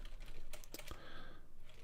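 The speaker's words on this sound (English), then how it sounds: "if you guys ever see me with a notepad open, I'm typing code" Quick bursts of typing on a computer keyboard, soft and close, a brief run of clicky keystrokes with no voices.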